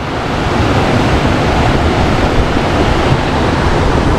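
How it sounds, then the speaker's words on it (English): Raging river water from a glacial outburst on the Wonderland Trail near Longmire, Washington, a loud, dense, unbroken roar of rushing water filling the whole clip. "Oh, this is a good view of the raging water."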